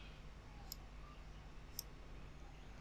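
Two faint, crisp computer mouse clicks about a second apart, heard alone against low background hiss.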